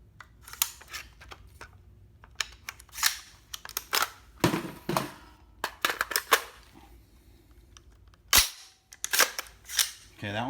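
A Ruger AR-556 MPR rifle is worked by hand, its bolt catch and magazine giving a series of sharp metallic clacks and snaps at irregular intervals, close up, with quiet pauses between actions.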